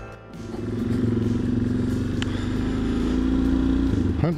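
Suzuki DRZ400 dirt bike engine running close and loud, a steady buzzing single-cylinder drone that holds and swells slightly before a brief rise at the end.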